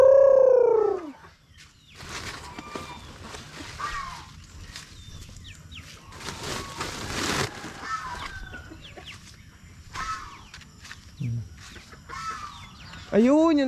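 Pigeons coo and call near a backyard coop, with bird sounds and fluttering spread through the stretch; someone talks intermittently over them and a sharp loud call opens and closes it.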